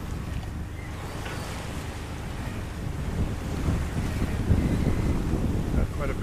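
A sailboat under sail near Ponza, Italy, with steady wind rushing over the microphone and waves washing against the hull, a continuous moderate roar that swells slightly toward the end.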